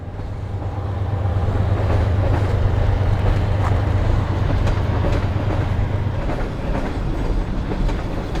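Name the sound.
train passing by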